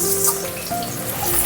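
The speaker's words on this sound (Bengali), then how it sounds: "এবার এই তেলের মধ্যে আমি এঁচড়টাও ভেজে নেব।" Boiled raw jackfruit pieces fry in hot oil in a pan, giving a close, steady crackling sizzle with faint bubbling that carries on throughout the short stretch without any talking.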